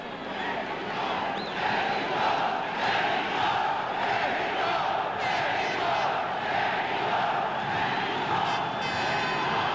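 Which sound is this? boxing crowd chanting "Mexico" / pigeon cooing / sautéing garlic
boxing crowd chanting "Mexico"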